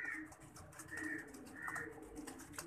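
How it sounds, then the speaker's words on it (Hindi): Soft, close cooing and squeaky calls from young pigeons, a few repeated high chirps over a quiet background. "इनको बोलते हैं कबूतर के बच्चे"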